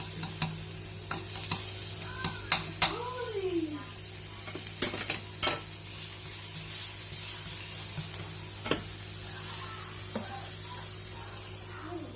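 Steady sizzling of food frying in butter in a pan, with occasional utensil clinks and scrapes over the continuous hiss.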